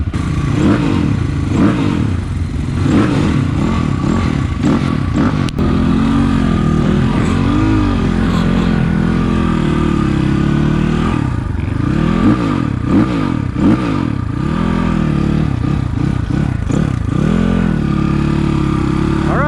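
A 2020 SSR Motorsports SR300 Chinese dirt bike, set up for dual sport, runs loud and close on a motocross track, its engine and exhaust pipe rising and falling in repeated revving swells throughout.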